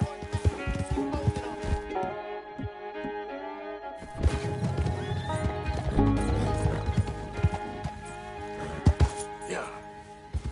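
Horse in the open-world western game Red Dead Redemption 2, with clopping hooves, an excited whinny and crashing thuds over a musical score, while people talk and shout.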